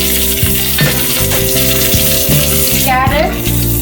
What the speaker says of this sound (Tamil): முருங்கைக்காய் எல்லாத்தையும் இப்போ ஒன்றா போட்டு வதக்கிக்கலாம்